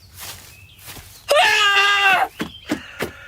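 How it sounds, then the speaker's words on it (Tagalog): A man suddenly lets out a loud, sustained scream lasting about a second in a Filipino horror drama set in a remote area. Shuffling footsteps and quieter movement come before and after it. "ano ba't sumigaw ka bigla?"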